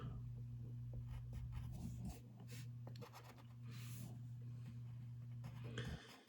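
A pencil scratches across paper in short strokes, faint and close, over a steady low electrical hum.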